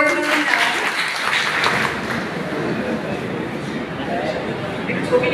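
A crowd at a public dealership lottery meeting in a Lalmonirhat upazila office claps in a brief, fairly loud burst of applause. Scattered chatter continues alongside and after it.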